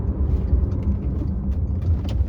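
A Porsche Cayenne GTS 957 with a six-speed manual gearbox driven in second gear: a steady low engine drone with road and cabin noise, moderately loud and even, with no one speaking.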